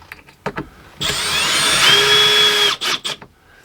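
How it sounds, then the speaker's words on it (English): A Milwaukee M18 hammer drill spins up close and loud for under two seconds, with its motor whine holding steady. A few short taps and knocks come before and after it while work goes on inside a horse trailer's living quarters. "Even my Milwaukee M18 hammer. It also has a drill side."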